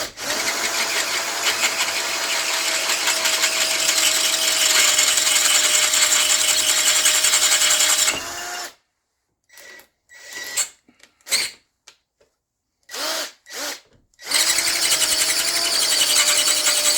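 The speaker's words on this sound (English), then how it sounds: "this other drill that I got over here." A power drill runs continuously for several seconds, then stops and gives a string of short bursts before running steadily again, close and loud during jig building for a chainsaw board mill.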